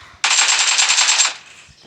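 A single loud, close burst of automatic gunfire in PUBG, a rapid rattling volley lasting about a second, then fading to quiet.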